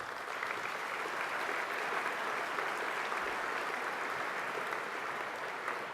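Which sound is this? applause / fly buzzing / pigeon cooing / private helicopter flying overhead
applause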